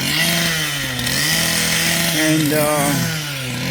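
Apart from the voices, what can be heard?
power saw cutting steel bars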